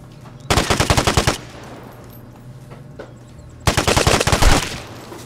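Two loud bursts of automatic gunfire from an enemy player in the video game Vigor, each about a second of rapid rattling shots, separated by a quieter stretch of ambient noise.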